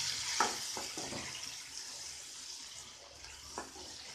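Four chopped tomatoes are sautéed in a pan for Chettinad garlic chutney, producing a low, steady sizzle broken by a few soft stirring taps.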